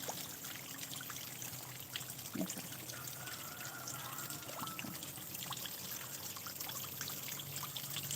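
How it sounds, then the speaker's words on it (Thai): Water flowing and trickling outdoors on a quiet morning, a steady soft stream with faint gurgles and dribbles, continuous and moderately distant, with no talk. "ฟังเสียงน้ำเราเป็นยังไงคะพี่น้อง พี่น้องมาฟังเสียงน้ำเหมือนกันค่ะ"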